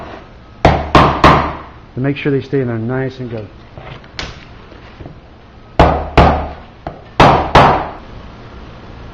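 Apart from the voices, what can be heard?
hammering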